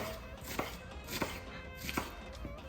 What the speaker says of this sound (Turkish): Soğanı çox xırdalamayacağam